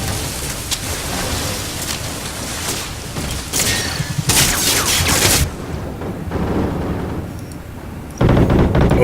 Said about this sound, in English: Oh yeah, shooting underwater